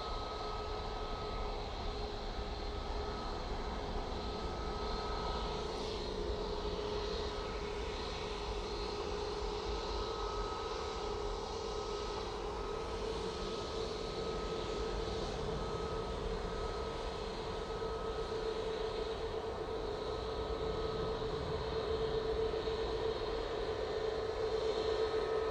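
An Airbus A320neo leaves Manchester for Bilbao, a long, even engine rumble with a faint tonal whine, distant at first and swelling slightly toward the end, with no voices.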